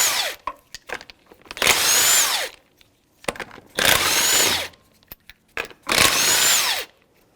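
Three long bursts of a power tool spinning 19mm lug nuts off the rear wheel of a 1997-2006 Jeep Wrangler, loud and close, each run about a second, separated by brief clanks and quiet gaps.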